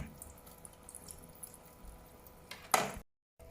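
Water running from a kitchen sink tap as vegetables are rinsed, a soft steady trickle with small splashes, rising to a brief louder gush before cutting off abruptly.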